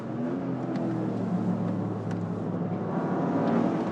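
Toyota GR Corolla Morizo engine pulling hard on a race track, heard from inside as a steady rising drone with no talk.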